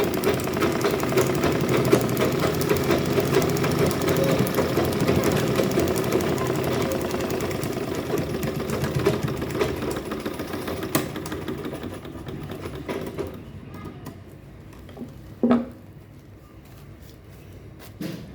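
A sewing machine double-stitching a fabric shopping bag runs in a loud, rapid mechanical chatter for about thirteen seconds, then stops, leaving a few quiet clicks and handling noises.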